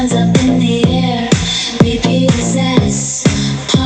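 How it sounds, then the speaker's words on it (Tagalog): Music with a punchy beat plays through a Castle KA269D portable Bluetooth speaker, sharp kicks and snare hits landing at a regular brisk tempo over sustained tones, loud and close with no voices. "So yun nga yung tunog ng ating Castle KA269D na portable Bluetooth speaker."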